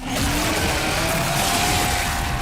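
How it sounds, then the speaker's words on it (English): A chainsaw with a 14-inch blade revs as a video game sound effect, giving a loud, continuous, gritty engine drone that rises slightly in pitch and stays dense and close. "This chainsaw has a 14-inch blade with that signature meaty yet intimate sound, and when it revs, you can hear all the gnarly details."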